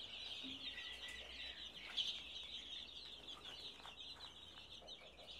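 A crowd of two-week-old chicks peeps continuously in a dense, faint chorus of high chirps, steady throughout with no talking.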